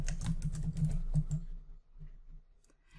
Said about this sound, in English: And as I start typing